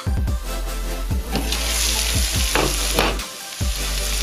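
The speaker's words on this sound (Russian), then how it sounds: "Даю им немного обжариваться под крышкой, протушиться." Bull testicles and mushrooms fry under a lid in a pan, a loud, continuous close sizzle with low rumbling bubbling and occasional pops and spatters.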